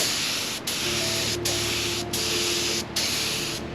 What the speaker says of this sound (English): sprayed the primer and then the 2-pack satin black